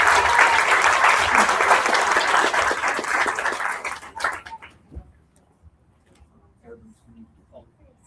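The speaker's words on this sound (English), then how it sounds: "Let's give them all a round of applause." An audience at a regular public meeting breaks into loud, sustained applause for award recipients. The clapping fades after about four seconds, leaving scattered claps and faint room noise, with a dog barking amid the crowd.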